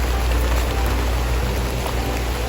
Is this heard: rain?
yes